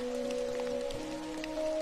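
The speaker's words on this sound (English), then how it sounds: "Outside, the rain begins to ease, signaling the end of the storm." Steady rain falls with a soft, even hiss and scattered drips throughout, accompanied by a low, sustained tonal hum and no voices.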